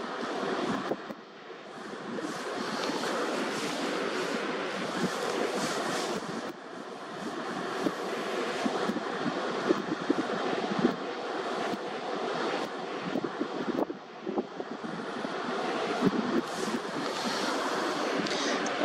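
Sea waves and swell churning at an estuary bottleneck, a continuous rushing roar of surf with gusting wind buffeting the microphone, rising and falling in loudness over the span with no talking.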